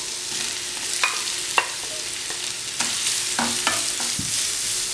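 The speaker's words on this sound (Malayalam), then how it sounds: "അതിനുശേഷം നമുക്ക് അതിനകത്തേക്ക് ഇവിടെ ചെറുതായി മുറിച്ച് വെച്ചിരിക്കുന്ന സവോള ഇട്ട് കൊടുക്കാം" Finely chopped onion fries in a pan with ginger and garlic for an egg cutlet filling: a steady close sizzle broken by scraping stirs and a few sharp spoon taps, with no one speaking.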